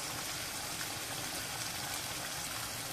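Water pours steadily into a pan, a continuous rushing, splashing hiss throughout.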